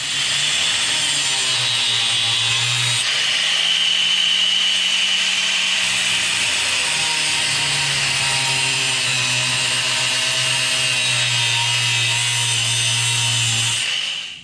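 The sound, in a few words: grinder grinding off a sway bar end link bolt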